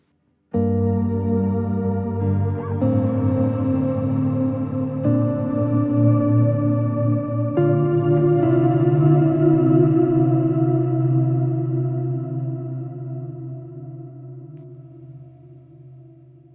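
A sustained, lush chord washes out through a Meris Mercury X reverb pedal's shimmering, pitch-shifted Spectrum Shift reverb, swelling and then slowly decaying into a long, fading tail, with no voices.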